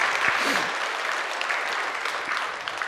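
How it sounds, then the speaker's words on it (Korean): Congregation applauding during a Sunday worship service at a church, a dense, steady wash of clapping from many hands that fills the whole stretch, loud and close with no talk over it. "여러분들이 박수로 함께 격려해 주시면 좋겠습니다"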